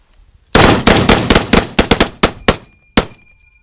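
An M1 Garand rifle fires a rapid string of about ten loud, sharp outdoor shots, with a brief pause before the final round and no talking over the volley.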